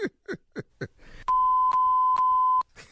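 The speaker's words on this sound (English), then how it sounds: "What was that last three beeps right there?" A radio morning show segment ends on a long sustained electronic tone broken into three beeps, loud and alone, after a few short spoken syllables.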